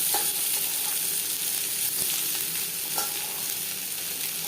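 Onions sizzle and fry in a pan of catla fish oil with a little mustard oil, a steady close hiss with occasional soft stirring taps and no talking.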